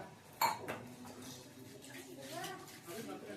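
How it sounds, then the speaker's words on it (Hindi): Utensils, pots and dishes are washed by hand in a home kitchen, with a sharp clink near the start followed by faint clattering and running water under quiet speech. "हमारे बर्तन हैं, इनको सब हम पहले एक बार साफ करते हैं।"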